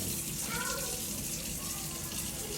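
Water runs from a kitchen sink faucet in a steady gushing stream at a birthday gathering at home, with the flow continuing throughout at close range.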